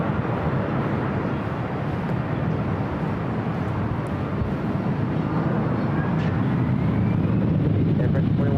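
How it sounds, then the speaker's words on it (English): An Air Tahiti Nui Boeing 787 Dreamliner takes off from runway 25 right at LAX, a loud, steady broadband jet roar that holds for several seconds with no break. "Air Tahiti Nui Dreamliner taking off 25 right."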